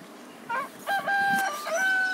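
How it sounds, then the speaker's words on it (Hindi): Rooster crowing inside a horror video game, a few drawn-out crow calls with clucking fowl sounds in between, fairly close and clear over a low background hum. "ये लो मुर्गे ने भी बांग मार दी।"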